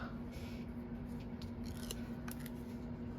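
Scissors snip through a small piece of cardstock for a paper flower craft, with a few soft, quick cuts sitting close over a steady low room hum.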